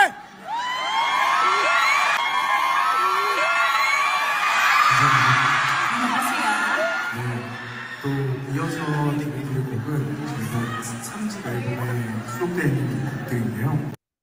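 Fans scream and cheer in a loud, shrill crowd at a K-pop fan meeting, with high whoops and yells at first, then voices talking over the continuing crowd noise.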